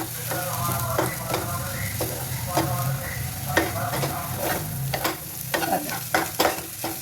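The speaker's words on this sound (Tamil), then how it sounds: "இந்த உடச்சி வச்சுருக்கிற முட்டையை இதோட கலந்துடலாங்க கலந்து விட்டுட்டு நல்லா உடச்சி விடுங்க" A spoon scrapes and stirs beaten egg into vegetables sizzling in a pan, irregular knocks against the metal over a steady fry, close by with no talking.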